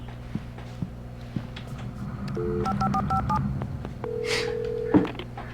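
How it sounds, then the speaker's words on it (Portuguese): In the video game Alan Wake, a telephone is dialed: a quick run of clear keypad tones, a few in fast succession, then one longer tone, over a low ambient hum with scattered soft footsteps and thumps. "Telefone."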